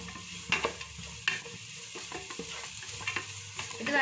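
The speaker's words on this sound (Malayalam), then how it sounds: "ഏകദേശം ഒരു 5 മിനിറ്റ് ഇതൊന്ന് ഒരു മീഡിയം ഫ്ലെയിമിൽ ഇട്ടിട്ട് ഇളക്കി കൊടുത്താൽ മതി" Food stirred and sautéed in a pan over a medium flame for a fried rice dish: a steady soft sizzle broken by several sharp scraping strokes of a spatula, close and fairly quiet, with no talking.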